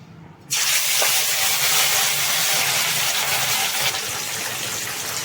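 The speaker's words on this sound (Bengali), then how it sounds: "মাছগুলোকে আমি সব ছেড়ে দিলাম এবার আমি মাছগুলোকে ভেজে নেব" Pieces of katla fish drop into hot oil and a loud, steady sizzle bursts in after a brief quiet start, crackling continuously near the pan before easing slightly toward the end.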